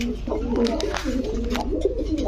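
Large pigeons at a pigeon market coo in low, rolling, repeated calls, close and continuous with other birds around and faint voices underneath.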